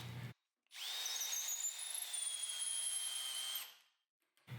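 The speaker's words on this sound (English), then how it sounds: "I started by drilling a hole in the center of a thick piece of ash" A power drill bores a hole into the center of a thick piece of ash wood, a steady high whine lasting about three seconds, close and alone, with brief pauses before and after.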